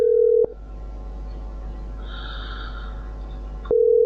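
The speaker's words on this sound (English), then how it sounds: "Ringing." A steady electronic phone ringing tone sounds briefly, gives way to about three seconds of quiet line hiss, then starts again.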